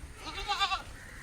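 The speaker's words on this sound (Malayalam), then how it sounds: "ആടായിരിക്കും പോകുന്നത്, ആട് കെട്ടിയതാണ്." A tethered goat in a village bleats once, a short, wavering, mid-loud cry that peaks and fades against quiet outdoor background.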